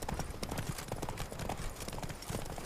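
Steady horse hooves clip-clopping in The Witcher 3 video game, a continuous trotting rhythm heard close and fairly loud, with no talking.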